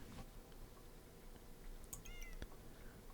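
A cat item in the Backpack Battles video game gives a short, high meow near the middle, heard once against quiet game background.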